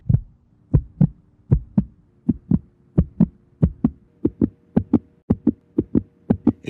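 Steady heartbeat thumps, each a muffled low double pulse, repeating loud and close with no other sound around them and gradually speeding up.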